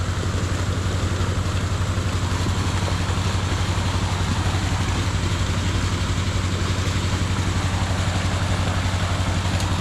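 Loud, steady drone of a diesel water pump engine at full throttle, slightly tilted, filling a fish pond, with a constant low throb, running unchanged and close by for the whole stretch.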